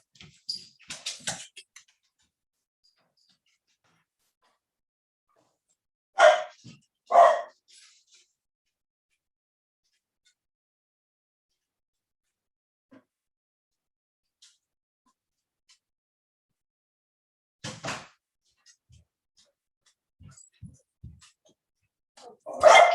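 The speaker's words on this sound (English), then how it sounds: "That's my little Cocker Spaniel." A small Cocker Spaniel barks indoors in a few short, separate bursts, with quiet stretches between them.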